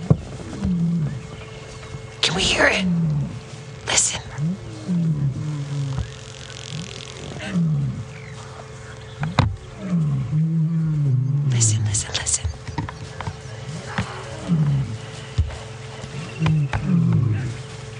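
A lion on a sunrise safari game drive gives a series of soft, low, grunting roars that repeat every couple of seconds nearby. People talk quietly and a vehicle engine rumbles in the background.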